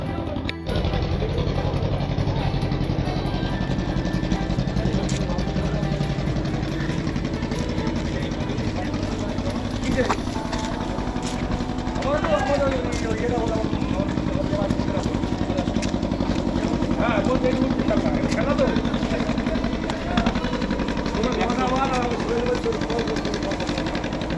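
A motor boat's engine runs steadily and loud at Godkhali ghat in the Sundarbans, a continuous low idling drone with some clatter filling the whole stretch.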